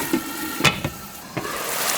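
Potato and lotus root pieces cook in a covered pan with water added, giving a steady, soft sizzle and a few sharp clinks and bumps close by.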